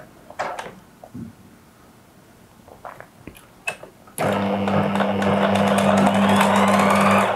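A sewing machine stitching a coat collar starts up after a few scattered clicks and handling taps, then runs in a loud continuous close whir with a steady motor hum.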